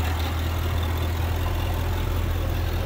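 A 2012 Jaguar XKR coupe engine idles while warming up, a steady low rumble with an even hum and no revving, heard alone at moderate level.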